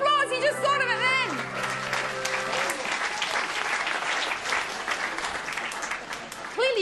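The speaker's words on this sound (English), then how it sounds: "Round of applause." A studio audience at a televised rock music quiz show breaks into loud, sustained applause and cheering, with a voice talking briefly at the start.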